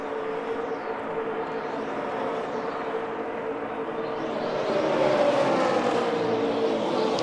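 NASCAR race trucks roar around a big wide racetrack at the San Bernardino County 200 in 2009, a steady blended engine drone that swells slightly as the pack draws nearer, with no talk over it.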